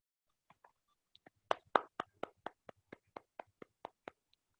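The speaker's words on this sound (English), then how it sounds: "Can we have a round of applause for her" Brief applause at a Toastmasters club meeting, a thin run of about a dozen distinct hand claps from a few people, crisp and fairly close in a quiet room, tapering off at the end.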